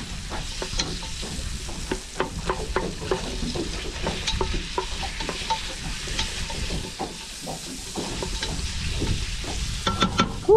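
Onions and garlic fry in a pan, a steady close sizzle with frequent clinks and scrapes of stirring running through the whole stretch, no voices.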